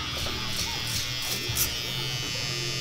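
A Babyliss T-liner electric trimmer cuts through a man's very coarse beard with a steady, close, high-pitched buzz that continues without pause.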